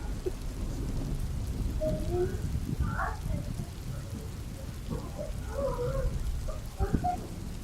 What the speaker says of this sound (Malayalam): ഇത് കണ്ടിട്ടെങ്കിലും നിങ്ങൾ മഴ പെയ്യുന്നുണ്ടെന്ന് വിശ്വസിക്കണം